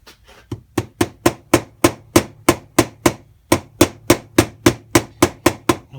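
A flat hammer taps a case-hardened collar onto the crankshaft of a KTM 85 engine, about twenty sharp metallic knocks in a steady, close, evenly spaced rhythm with one brief pause midway.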